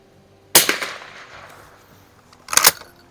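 An 1896 Schmidt Rubin target rifle chambered in .22 short, fitted with a Riton 6-24x50 scope, fires two sharp, close shots about two seconds apart at a 50-yard range, each with a short decaying tail.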